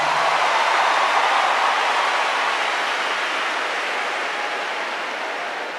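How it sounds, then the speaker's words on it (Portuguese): Broad, steady applause from a large audience at a Catholic community gathering, a dense wash of clapping that holds evenly and tapers slightly toward the end, with no talk. "Uma salva de palmas para todos."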